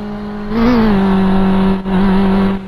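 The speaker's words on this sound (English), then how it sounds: "Now let's turn on the engine on." Simulated V8 engine of a 2013 Formula 1 car starting up in a racing video game, a loud steady drone that swells near the start, dips briefly, then holds a sustained idle-like hum with no talk.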